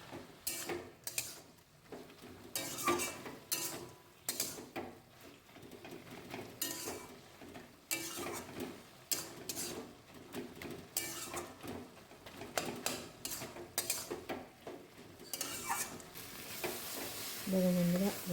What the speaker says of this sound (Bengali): বেগুনগুলো দিয়ে ভালো করে সবজির সাথে মিশিয়ে নিচ্ছি